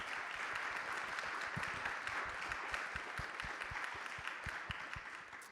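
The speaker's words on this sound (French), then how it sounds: "Je pense qu'on peut les applaudir" Audience applause following a round-table discussion on climate change adaptation, a steady dense wash of clapping from a seated crowd in a hall, sustained at even loudness throughout, with no talk over it.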